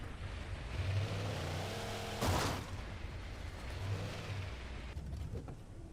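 In Alan Wake Remastered, a game car's engine hums and revs as it drives, with a sharp crash or impact burst partway through and rattling noise near the end, moderately loud with no talk.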